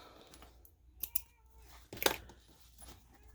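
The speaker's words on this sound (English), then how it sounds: "Trim threads." Scissors trimming threads on a sewing project for a zipper slip pocket, a few quiet close snips in a hushed room with faint background noise.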